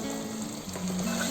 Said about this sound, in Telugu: కొద్దిగా మనకి చికెన్ ఆయిల్లో మగ్గాలి.